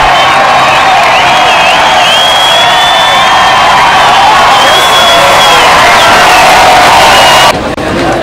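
A stadium crowd of about 4,000 roars and cheers steadily at a baseball game, with whoops and shouts rising above a dense, loud wash of applause before it cuts off near the end.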